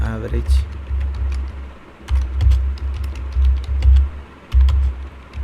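Typing on a computer keyboard: scattered, irregular key clicks at close range, mixed in with a low, steady hum, while someone talks in the background.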